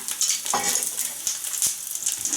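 A Thai fried mussel pancake (hoi tod) sizzles in hot oil, a steady bright crackle punctuated by a few soft clinks and scrapes of a utensil in the pan.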